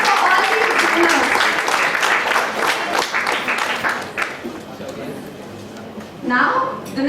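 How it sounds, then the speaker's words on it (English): Audience applause at an Independence Day celebration as prize winners are announced, steady dense clapping across the whole stretch with a crowd murmur and a voice or two mixed in, rising again near the end. "A round of applause for all these winners."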